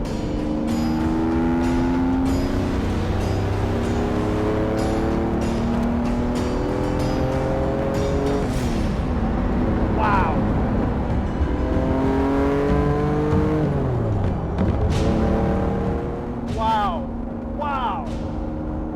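Collector supercar such as a Ferrari F50, Lamborghini Diablo SE30 or Jaguar XJ220 revving hard through repeated upshifts, its engine note climbing and dropping as it accelerates, loud and continuous with a voice talking over it.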